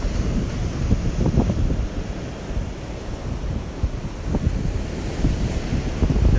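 Ocean waves wash onto the beach at Myrtle Beach, South Carolina, a steady low rumble of surf mixed with heavy wind buffeting the microphone, with no voices.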